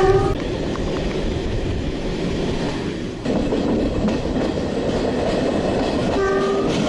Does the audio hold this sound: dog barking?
no